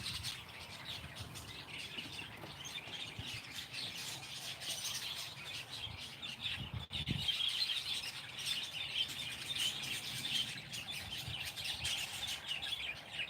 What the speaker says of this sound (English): You see the bird?